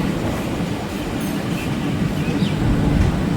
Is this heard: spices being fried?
no